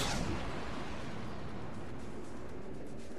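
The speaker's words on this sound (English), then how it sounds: "Blowing up the plasma cannons." Dense, sustained rumbling blast noise of plasma cannons being destroyed in the space game X Rebirth, loud at the start and then a steady roaring wash of explosions.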